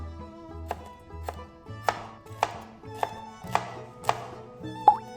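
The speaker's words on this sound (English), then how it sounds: "Cut Thai chili pepper into circles" A knife slices Thai chili pepper into rings on a cutting board, about eight crisp, evenly spaced taps close up, with soft background music underneath.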